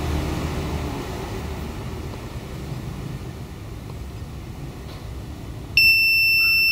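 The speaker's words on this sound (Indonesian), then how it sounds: "buzzer yang menandakan koneksi ke modul GSM" An Arduino buzzer in a home security system starts abruptly near the end, signalling connection to a GSM module, a loud sustained high tone over a low hum of background noise.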